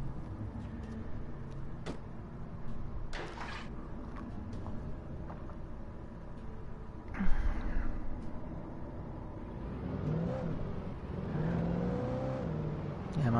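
A car engine in the Alan Wake video game hums and revs steadily, rising in a louder burst midway, with game ambience around it and a voice talking over it.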